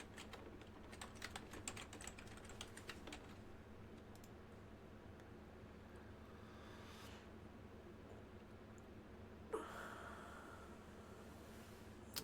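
A computer keyboard is tapped in quick bursts of soft clicks to enter a password, quiet and close, thinning out midway and ending with a faint keypress.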